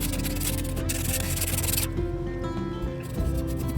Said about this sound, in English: using a 180 grit sandpaper